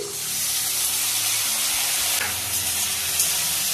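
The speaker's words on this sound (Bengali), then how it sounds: "এবার দিয়ে দিচ্ছি বাঁধাকপিটা যে কেটে রেখেছি সেটাই।" Chopped cabbage fries in a hot pan with other vegetables for a chicken momo filling, giving a loud, dense, continuous hiss of sizzling and steam over faint background music.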